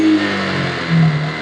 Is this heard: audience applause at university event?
no